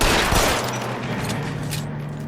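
Video-game gunfire, with headshots scored in a shooter, cracks out as a loud burst at the start and then trails off into a rumbling, decaying tail.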